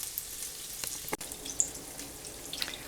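Salisbury steak patties fry in a pan with a faint, steady crackle, broken by a few soft clicks and a brief knock.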